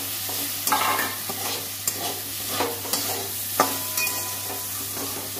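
Neem leaves fry with eggplant in hot oil, a steady sizzle close by, punctuated by sharp scrapes and taps of a spatula stirring the pan at uneven intervals.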